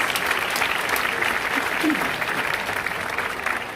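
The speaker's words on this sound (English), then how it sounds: "Give our Council President a huge round of applause." Crowd applause for the City Council President at Philadelphia's 2024 mayoral inauguration, a dense sustained clapping from a large audience that fills the whole stretch.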